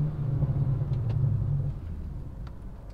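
A BMW 340i cruises on the highway with a steady low engine and road rumble inside the cabin, constant droning with a slight drop in level partway through and faint ticking noises.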